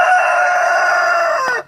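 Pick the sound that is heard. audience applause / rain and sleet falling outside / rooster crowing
rooster crowing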